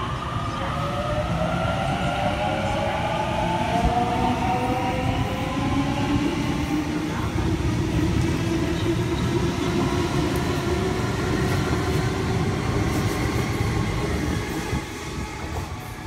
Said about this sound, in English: About to depart Platform 4, we have a 60 bound for Blacktown